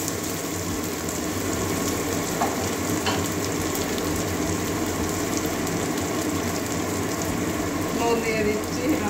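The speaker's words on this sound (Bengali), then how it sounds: "পেঁয়াজটা ভালো করে ভেজে নেবো।" Onions frying in a pan with a continuous, even sizzle and crackle under a few faint clinks, steady and close throughout, with no voices.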